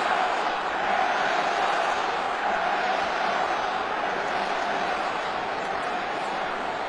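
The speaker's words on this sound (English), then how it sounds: "Now the crowd giving their 2 cents" Basketball arena crowd reacting after a flagrant foul in an NBA game, a steady loud roar of many voices filling the whole stretch without break.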